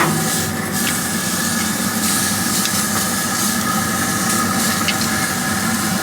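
Tri tip beef laid on a grill's sear grate above the fire pot, giving a steady loud sizzling hiss that holds unbroken throughout.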